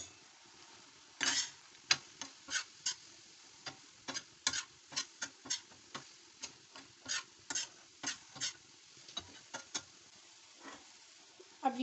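Beef liver cooking on a tawa with salt, red chili, turmeric and dry coriander, stirred with repeated sharp metallic scrapes at a steady rhythm over a quiet sizzle.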